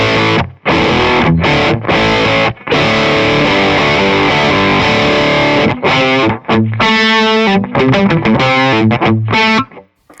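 Electric guitar played through a Will Sledge FX The Veil 919 overdrive and a Biyang OD-8 overdrive, loud gritty distorted chords ringing out with brief pauses between phrases and no talking.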